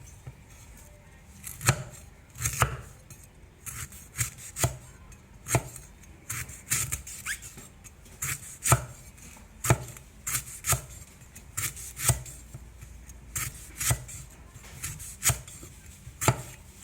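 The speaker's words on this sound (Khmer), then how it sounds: "ជាដំបូងយើងធ្វើការហាន់គល់ស្លឹកគ្រៃស្ដើង" Lemongrass stems sliced thin with a knife on a cutting board for a Khmer dish, crisp close chops in an uneven run with short pauses, heard alone.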